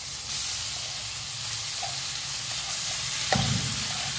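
Green pea paste sizzles in a hot frying pan with black cumin and asafoetida as it is stirred, a steady broadband hiss that holds throughout, close and fairly loud, with a brief louder scrape near the end.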